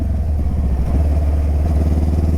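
A motorcycle engine pulls hard in third gear while riding, a loud, close, throbbing low-pitched drone with a steady pulsing beat and no voices.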